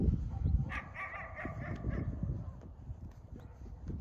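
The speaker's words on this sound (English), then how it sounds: "Where in the hell is that dog coming from?" A dog barks repeatedly in the distance, a series of yelping barks carried over an outdoor background.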